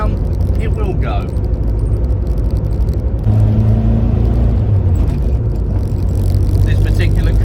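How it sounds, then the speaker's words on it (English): A 1969 Ford Capri Mk1 with a 4-speed manual accelerates, its engine rumbling and revving steadily under continuous talking from inside the car. "And when you put your foot down, it will go."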